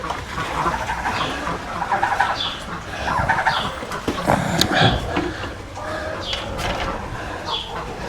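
Several chickens cluck and squawk inside a barn chicken coop, a busy overlapping chatter of short calls at close range, continuous throughout.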